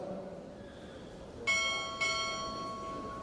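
Twin strokes of a ceremonial ship's bell ring out at a Navy chief petty officer pinning ceremony after a quiet pause, the two bright, shimmering tones half a second apart and trailing off slowly.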